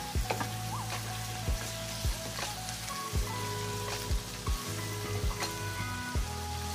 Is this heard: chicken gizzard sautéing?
yes